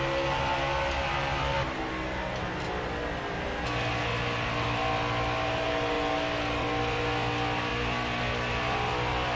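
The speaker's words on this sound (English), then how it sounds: "Listen to the in-car noise." Steady, loud in-car engine drone of a stock car lapping Charlotte Motor Speedway in a racing video game, a continuous roar with a slight shift in pitch early on and no talking over it.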